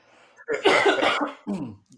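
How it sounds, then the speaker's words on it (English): A close, harsh cough bursts out in a rough cluster, followed by a shorter second cough after a brief pause. "I've been coughing this whole time."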